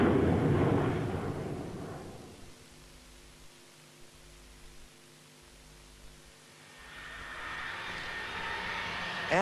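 Aircraft engine noise at an airport rises as a loud, broad roar, fades to a low steady hum in the middle, then swells again as another pass builds, with no voices.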